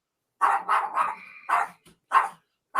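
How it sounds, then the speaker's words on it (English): A dog barks indoors in a house, six or so sharp, loud barks in an uneven series with brief gaps, heard close and alone without speech. "I just, Sam, if you could go away, please, so the dog be quiet"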